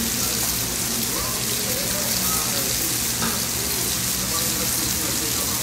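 White sauce poured over a cabbage dish in a hot restaurant pan gives a loud, dense, continuous sizzle and bubbling hiss throughout, close up and steady.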